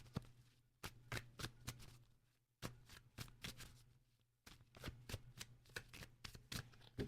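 Tarot cards being shuffled by hand, with quiet, close bursts of sharp riffling clicks in irregular runs and short pauses between, set against a faint steady hum.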